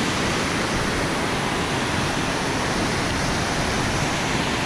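A mountain creek swollen after rain rushes past in a dense, unbroken roar of water, close and constant with no voices.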